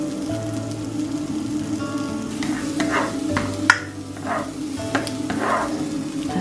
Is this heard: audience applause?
no